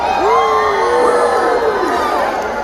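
Group of children at a mall kids' show shouting and cheering "woo" together, a loud sustained crowd whoop rising and falling across a couple of seconds, with no one else talking over it.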